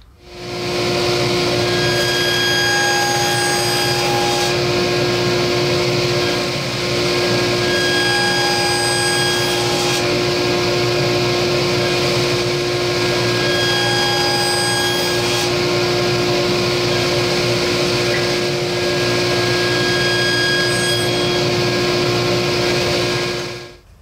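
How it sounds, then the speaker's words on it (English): A power tool cuts a 1/4 inch wide, 3/8 inch deep dado in wood, running as a loud, steady whine throughout with slight changes in load as the cut proceeds. "we're going to cut a 1/4 inch dado"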